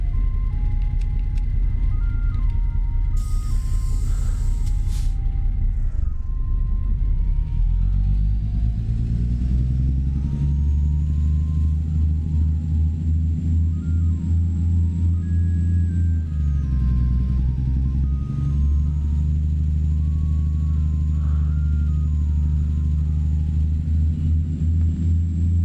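A truck engine fires up and settles into a deep, loud rumble, with revs climbing and dropping in smooth swells, close by and alone without talk.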